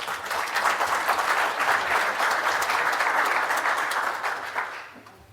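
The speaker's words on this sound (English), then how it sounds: "Round of applause for Jeff" An audience at a builders' summit gives sustained applause for a speaker after a building code presentation. The dense, even clapping fills the room for about five seconds, then quickly dies away.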